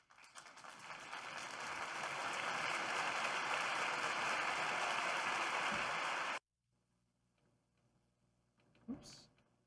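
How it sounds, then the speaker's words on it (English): A huge crowd applause sound effect played back through a USB playback setup builds to a dense, roaring wash of clapping and cheering, then cuts off abruptly, followed by quiet room noise and a brief clunk. "Huge crowd applause."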